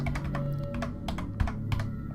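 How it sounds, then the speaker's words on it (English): Close, clattering keystrokes on a computer keyboard, a quick uneven run of taps with a steady background hum, no voices. "keyboard action, like me pressing the keyboard like in the Lisa playthrough"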